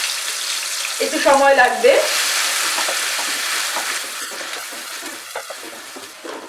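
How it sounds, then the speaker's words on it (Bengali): Onion paste frying in a pan on medium flame while cauliflower korma is prepared, a steady close sizzle that swells with a brief bubbling burst early on, then settles into even crackling; a voice speaks briefly near the end. "পেঁয়াজ বাটাটাকে মিডিয়াম ফ্লেমে রেখে এবার ফ্রাই করে নেব।"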